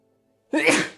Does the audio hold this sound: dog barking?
no